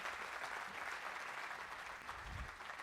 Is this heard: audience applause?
yes